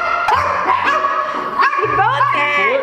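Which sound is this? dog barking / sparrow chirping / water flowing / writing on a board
dog barking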